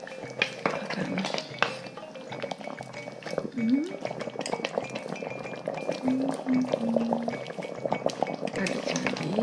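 Chicken pieces dropped into a sizzling pan of sautéed spice paste for Padang-style chicken satay, giving a steady crackling sizzle with occasional clinks of a utensil against the pan while someone talks.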